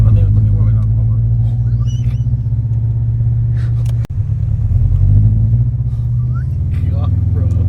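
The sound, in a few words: FR-S car engine rumbling with unequal length headers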